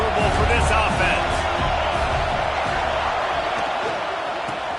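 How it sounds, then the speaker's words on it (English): Stadium crowd in College Football 26 during a Tennessee Vols home game against Vanderbilt at Neyland Stadium: a loud, continuous roar of massed fans that holds steady throughout, with no distinct calls standing out. "This crowd trying to make life miserable for this offense."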